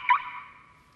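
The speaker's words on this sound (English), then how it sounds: "For example, conventional cars have a locking sound like this." A conventional car's door locking sound: one short electronic chirp with a quick onset that decays over about a second, heard alone and fairly quiet.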